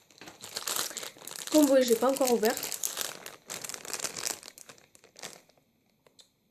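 Bubble wrap packaging being crumpled and crinkled up close in bursts, with someone talking in French over and between the rustling.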